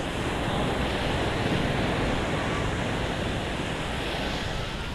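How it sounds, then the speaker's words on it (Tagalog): Rough seas churn during Typhoon Pepito, a dense, unbroken roar of surf and wind noise, loud and steady with no voices. "Malaki ang dagat ngayon."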